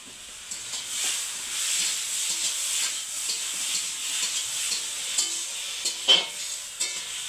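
Tomatoes cooking in a pan in a home kitchen, giving a steady, moderately loud frying sizzle with occasional stirring scrapes and soft clicks, no talk.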